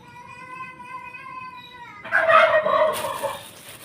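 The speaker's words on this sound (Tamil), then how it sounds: "எந்த சத்தம் கொடுத்தாலும் அந்த கோழி கத்திடும்." A steady droning tone, then a hen squawks loudly and agitatedly for about a second, followed by scratchy noise.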